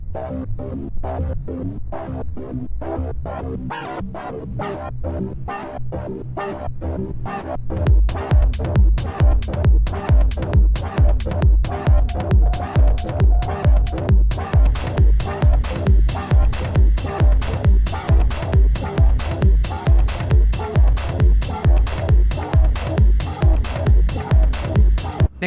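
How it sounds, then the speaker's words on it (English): A synth line run through the flanger module of the u-he UHBIK effect bundle, with a sweeping, whooshing tone over a steady pulsing beat that gets louder and fuller about a third of the way in; no talking. "Let's put our flanger back on."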